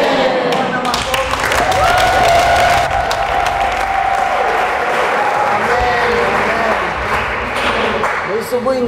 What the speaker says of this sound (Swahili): Bwana makofi.